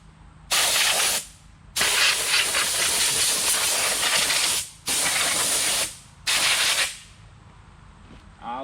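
Compressed air blows dust off a Mahindra eMax 20S HST tractor in four loud, close hissing bursts of one to three seconds each, separated by short quiet gaps.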